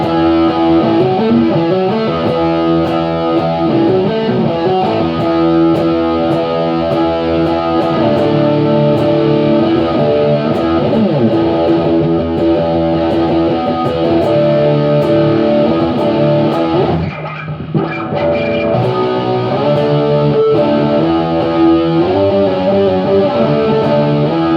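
Electric guitar played through a Positive Grid Spark amp set to a 70s rhythm tone, thick distorted chords and riffs ringing continuously and loud, with one brief choked gap midway.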